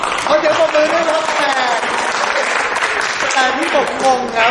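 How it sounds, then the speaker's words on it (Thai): Audience at a 2009 Empire: Total War game launch event in Thailand applauding steadily for several seconds, a dense wash of clapping that stays loud throughout, with voices mixed in. "เอาเดี๋ยวปรบมือด้วยครับ"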